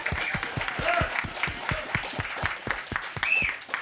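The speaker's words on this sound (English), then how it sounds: "Let's give him a big round of applause." Clapping from a pub crowd for a man behind the bar, sparse and fairly faint, with individual claps standing out and voices murmuring underneath.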